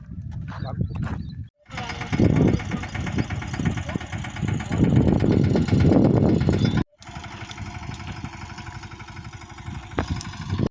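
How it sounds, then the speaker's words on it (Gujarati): A tractor engine runs on a farm, a loud, steady, rumbling drone that holds almost throughout, broken by two brief gaps. "આપણે ટ્રેક્ટર હાંકવાની ટ્રાય કરવાની છે"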